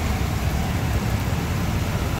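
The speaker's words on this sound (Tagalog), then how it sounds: "medyo malakas yung ulan" Heavy rain pours down in a dense, steady hiss with a low rumble beneath it, at the Kalibo Numancia Bridge over the Aklan River.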